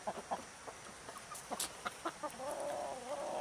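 Chickens cluck in short, scattered bursts at a moderate distance, with a few sharper calls and a faint background hum rising toward the end.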